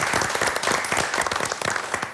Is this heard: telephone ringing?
no